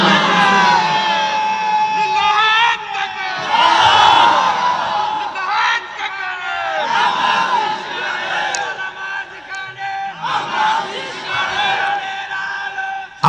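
A large crowd answers at a Bengali Islamic sermon with loud collective shouts of takbir, rising in repeated surging bursts of chanting voices close by, with the preacher's amplified voice mixed in.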